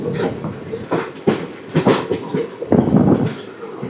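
Puri Tirupati Express (17479) slowing as it rolls through Moturu station without stopping, with steady rumbling wheels and repeated clanks and bursts of track noise over about four seconds.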